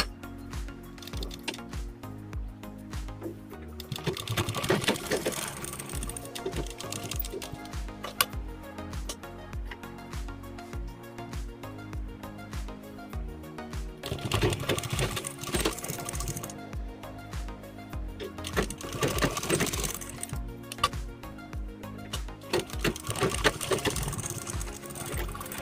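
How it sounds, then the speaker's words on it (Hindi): Sewing machine stitching patchwork onto a blouse, close rapid clattering runs of stitches in several bursts separated by short pauses, with no voices. "इसे हम सिलाई कर लेते हैं।"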